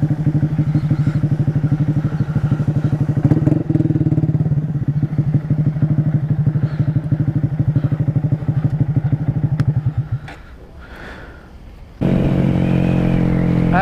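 Motorcycle with a loose chain idling loudly and close, with clattering thumps as it rolls in to park, then the engine quiets briefly before rumbling up again at the end.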